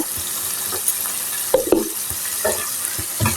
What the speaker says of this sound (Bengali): আমি এখন নেড়ে চেড়ে নামিয়ে নিব